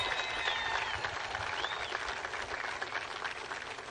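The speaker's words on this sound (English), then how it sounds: "Let's give him a round of applause." Audience applause welcoming President Trump at the Port of Corpus Christi, a dense steady wash of clapping with some whistles and cheers, sustained and fairly loud throughout.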